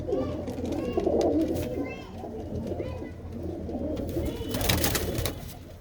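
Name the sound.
pigeons cooing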